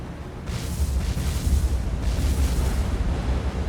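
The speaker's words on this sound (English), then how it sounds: "there's a lot of explosions for medical supplies that explode" In the naval video game War on the Sea, a burning ship's cargo goes off in a continuous rumbling roar of heavy explosions with deep booming swells and no talk.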